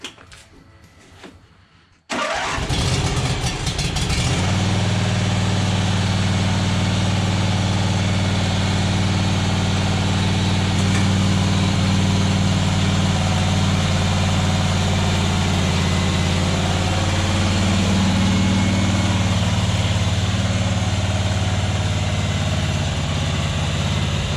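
A John Deere Z425 riding lawn mower's swapped engine cranks and catches after a brief quiet moment, then settles into a loud, steady idle that runs on without letup.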